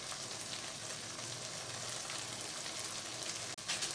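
Finely chopped green chilies go into a pan of creamy lobia (black-eyed beans), giving a steady, loud frying sizzle throughout, with a brief clatter near the end.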